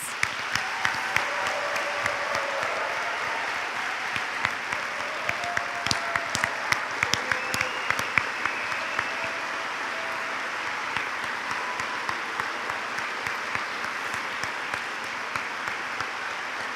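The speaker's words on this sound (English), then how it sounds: "Please join me in another round of applause for these amazing graduates." A graduation audience at a university nursing pinning ceremony applauds steadily and at length in a large hall, a dense, even wash of clapping with a few sharper claps poking through.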